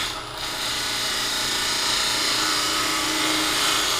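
Gouge cutting a cove into a wooden spindle on a lathe, a steady continuous rasping, scraping hiss that holds close and even for several seconds without talk.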